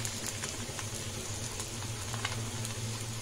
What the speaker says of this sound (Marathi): तव्याला थोडं तेल लावून घेऊया आणि पराठा याच्यावर टाकून घेऊया।